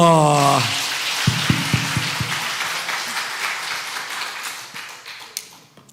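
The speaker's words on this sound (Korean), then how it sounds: "자, 박수 한번 해주세요" A brief tonal sound gives way to a church congregation at a Sunday afternoon service clapping. A few distinct, separate claps come first, then scattered light applause thins out and fades away.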